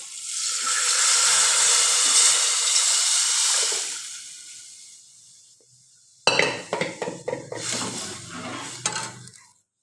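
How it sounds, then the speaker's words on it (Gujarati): Dal lentils are tipped into a hot cooking pot with chillies and tomatoes, setting off a loud, long sizzling hiss that fades, then a spoon clatters and scrapes against the pot in quick, close strokes. "આપણે નાખી દઈશું દાળ."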